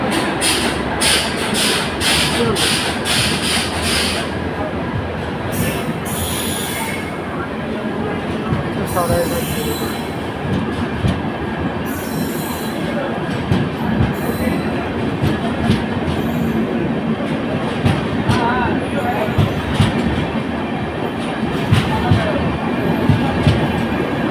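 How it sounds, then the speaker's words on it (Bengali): Saraighat Express passenger train running late and pulling along the line, a loud, continuous rumble with rail clatter and hissing bursts near the start, steady throughout. "ডিপারচার হলো সরাইঘাট এক্সপ্রেস"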